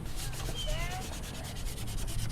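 Cloth wiping loose paint and powder off the body of a bus under conversion, a soft steady rubbing and scuffing, close and fairly faint, alone without talk.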